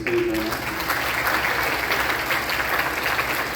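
Steady, dense applause from an audience at a middle school band concert greets the performers coming to the stage, loud and sustained throughout.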